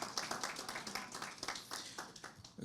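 A church congregation claps during a worship service, giving quick, uneven rounds of hand claps at moderate distance, fairly soft and steady with no talking over them.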